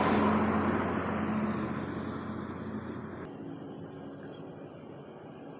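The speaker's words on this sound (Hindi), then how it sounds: "ये 12 चक्का लोडेड गाड़ी" A loaded twelve-wheel Leyland truck climbs a mountain ghat road, its engine a steady loud rumbling drone that eases slightly over several seconds, with no voices.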